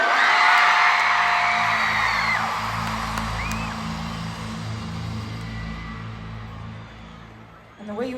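A large stadium crowd at the Eras Tour concert screams and cheers in a continuous loud roar with high whoops, easing slightly over time above a low rumbling music bed.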